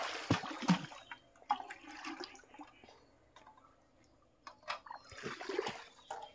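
Water is drawn by bucket from a farm pond used for bathing pigs: intermittent splashes, sloshes and trickles come in uneven bursts separated by quieter gaps, with nobody speaking.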